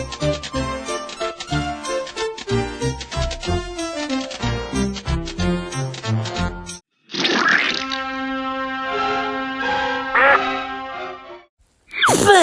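A cartoon duck quacks in rapid, chattering bursts, first as a long squawking run, then after a brief pause a second stretch of nasal quacks with a jingling tinkle, ending in a short final squawk.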